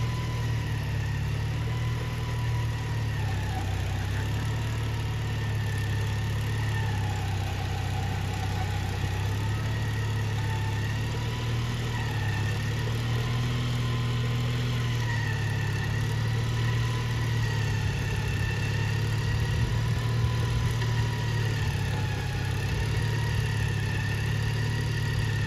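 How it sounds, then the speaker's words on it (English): An old lawn and garden tractor engine runs steadily while rototilling a garden, a continuous mid-pitched drone with a low hum that stays at an even level throughout, with no voices. "here you can hear the sound of him using it as he's rototilling the garden."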